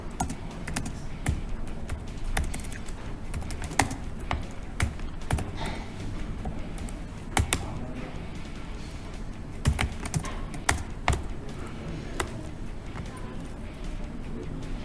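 Someone types code on a computer keyboard with quick, uneven clusters of close, crisp key taps. A few sharper, louder keystrokes stand out from the rest, and the room is otherwise quiet.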